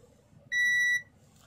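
A multimeter gives a single steady half-second continuity beep, clean and tonal against a quiet background, while a reed switch is tested.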